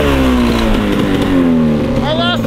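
Tracked Ford Raptor pickup engine revving loudly with a buzzy, dirt-bike-like drone, steady and close throughout, pitch sliding down then rising again near the end.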